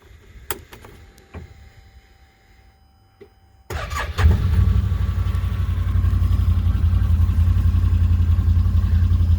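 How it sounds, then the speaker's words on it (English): A 2021 Can-Am Defender XT HD10 side-by-side engine cranks after a few quiet clicks, catches, and settles into a loud, steady, rumbling idle up close. "We'll start it up."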